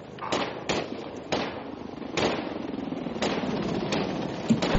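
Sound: gunfire in a video game

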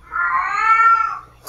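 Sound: cat meowing in a horror video game

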